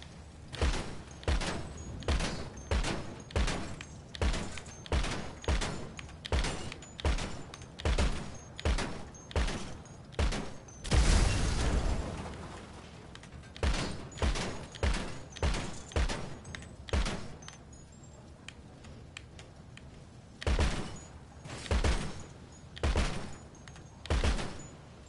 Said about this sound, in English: Shoot that out of the way.